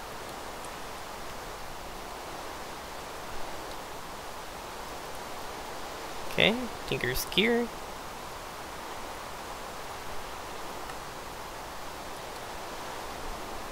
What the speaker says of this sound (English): I'm sorry about the rain.